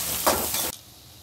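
Chopped onions hit hot oil with cumin and mustard seeds, giving a loud sizzling hiss that swells briefly and then cuts off sharply partway through, leaving a quiet tail.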